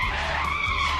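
A car's tyres skid hard on a Bengaluru road during a car and motorbike crash, a loud, steady screech filling the whole second; no distinct impact stands out.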